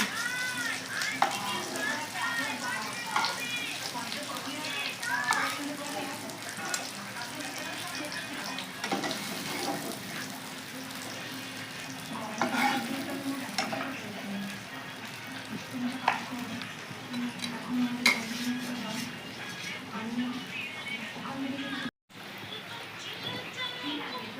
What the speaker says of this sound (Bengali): খুব ভালো করে ভাজি নিচ্ছি